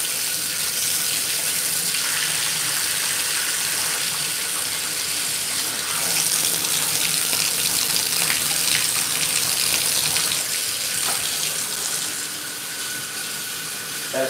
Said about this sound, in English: That surge of water from the faucet scared me.